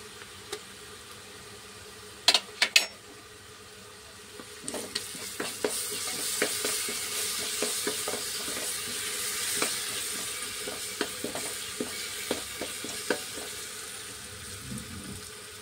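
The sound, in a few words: ginger garlic paste sizzling while frying chana dal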